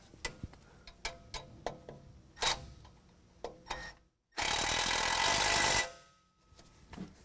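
A 12mm wrench tightens a bolt while an Air Lift LoadLifter 5000 Ultimate air bag kit is fitted to a 2022 Toyota. A series of sharp, close metallic clicks leads into a loud hissing burst of about one and a half seconds, then quiet.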